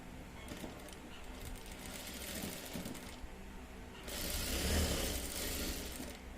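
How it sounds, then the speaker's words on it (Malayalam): Sewing machine stitching a child's petticoat, its motor whirring in two bursts of rapid mechanical running separated by a short pause, close and fairly quiet. "ഡബിൾ സ്റ്റിച്ച് ചെയ്യാം."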